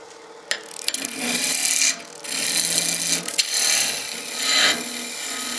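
Wood on a lathe being turned into a spinning top, the gouge taking a peeling cut with a steady rasping scrape that swells and eases in long passes and a few sharp ticks, close and alone.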